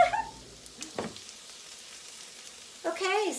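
Peppers and onions sizzle steadily in a hot pan, with a few sharp scraping bursts as the vegetables are flipped using a push-out, pull-in motion.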